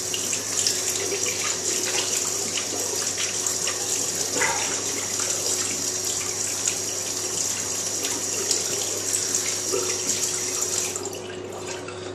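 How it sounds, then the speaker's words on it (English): Cold water runs steadily from a tap into a sink as someone rinses their face after a safety-razor shave, a continuous close splashing gush with no talking, easing slightly at the very end. "What I do now is wash my face with cold water"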